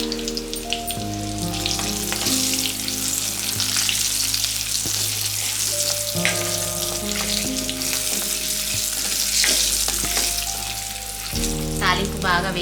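Spices and a dry red chili frying in hot oil for a tomato pickle tempering, a steady loud sizzle and crackle running the whole time with occasional sharper pops, no voices.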